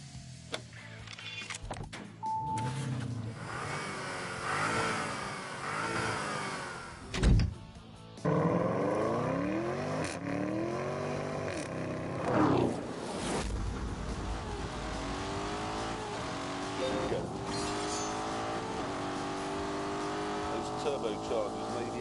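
A Lamborghini Urus turbocharged engine in The Grand Tour video game, a sustained throaty drone that rises and falls as it climbs a hill, with someone talking over it.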